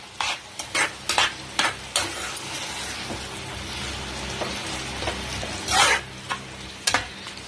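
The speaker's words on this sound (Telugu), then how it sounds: "ఉప్పు, పసుపు, కారం వేసి కూరని బాగా కలుపుకుందాం." Bottle gourd curry with salt, turmeric and chili powder is stirred in a pan over a soft sizzle, with a series of distinct scraping strokes at an uneven rhythm, close up.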